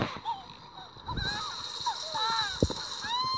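Water splashing from a shower in the Home Pony video game, a light steady spray with small sloshing bursts, under a talking voice.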